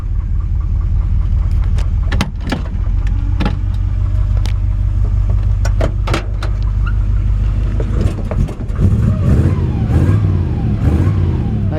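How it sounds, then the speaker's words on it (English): A 1955 Chevrolet Bel Air engine rumbles loud and close through its original muffler, holding a steady deep idle before revving up in rising and falling pulls toward the end. "Nice sounding old school, you know, original sounding muffler."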